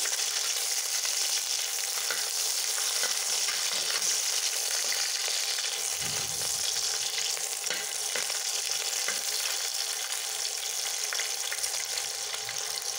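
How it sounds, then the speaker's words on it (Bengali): Chili spice paste frying in hot oil gives a dense, continuous, close sizzle with a brief stirring thump midway. No one speaks. "ভেজে নিচ্ছি, আর একটু ভেজে নিয়ে তুলে নেব।"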